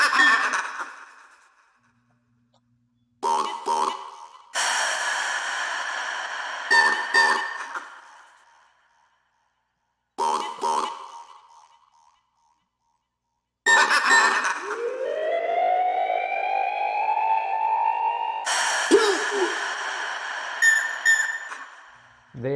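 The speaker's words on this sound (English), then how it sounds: "And we have here a siren." A siren effect in a hardgroove techno track rises in pitch and holds a long wailing tone, between loud stabbing synth bursts separated by silent gaps.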